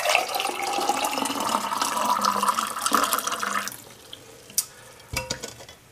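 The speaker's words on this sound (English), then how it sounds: "We're just going to pour it in like this." Hot borax solution is poured quickly into a jar in a sink, a continuous rushing, splashing flow that stops abruptly, followed by a few soft clinks and handling knocks.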